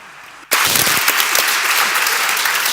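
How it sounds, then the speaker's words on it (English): An audience at a STEM women's congress in Barcelona suddenly bursts into loud, sustained applause that continues to the end, with dense clapping filling the room. "we can give that a round of applause"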